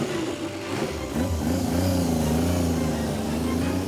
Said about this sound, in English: It's a nice sounding bike, those, aren't they? Give it a beat, Steve.